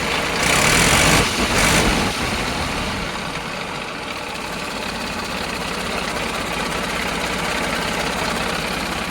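A 2009 New Holland tractor engine idles steadily with a low, rumbling drone, slightly louder and rougher during the first two seconds, then settling into an even hum.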